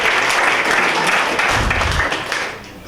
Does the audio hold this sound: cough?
no